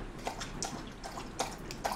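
A dog drinks water from its bowl indoors with a few quiet, irregular laps and splashes close by over a faint background hum.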